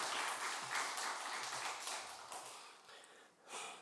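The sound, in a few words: congregation applause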